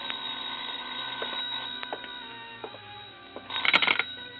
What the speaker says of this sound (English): I was about to go downstairs when the phone rang.